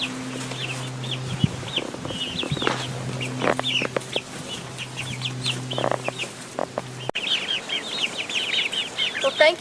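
Hens and a rooster cluck and chirp in a farmyard flock, with repeated short calls and bursts scattered throughout, close and moderately loud over a steady low hum.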